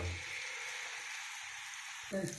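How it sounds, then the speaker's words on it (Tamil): Ragi dosa batter frying on a hot pan gives a steady close sizzle throughout, with a brief louder crackle near the end as it is stirred or spread. "இப்போ ராகி தோசை போட்டுக்கலாங்க"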